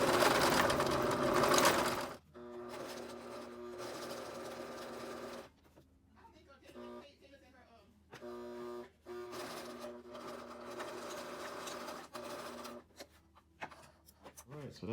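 A home sewing machine run by foot pedal stitches a pinned fabric face mask in rapid mechanical bursts, a steady whirring hum that starts, pauses and restarts several times, close and clear in a quiet room.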